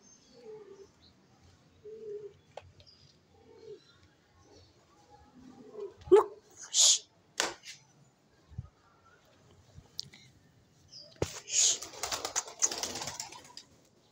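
Wild pigeons cooing outdoors in rainy weather, soft low coos in short phrases, followed by louder sharp bursts and a crisp fluttering rustle near the end, all fairly faint.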